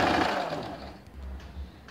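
A sewing machine runs in a loud burst at the start, stitching fabric for straight-cut ladies' pants, then fades into quieter low mechanical whirring and short motor pulses.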